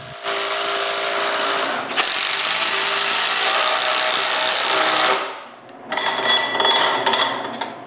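Power drill or driver sinking a screw into a wooden workbench to jam its casters in place, a loud close steady whir in two long bursts with a brief pause, then a shorter, rougher final burst.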